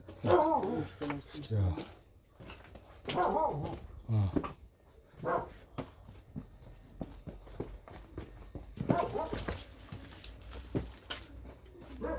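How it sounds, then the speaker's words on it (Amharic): A neighborhood dog barks in intermittent bursts at moderate distance, mixed with footsteps and frequent talk from people walking through a crowded residential area. "ሰፈር ውሻ አለ።"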